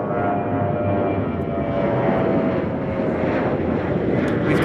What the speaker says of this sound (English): Got a Dreamliner moving.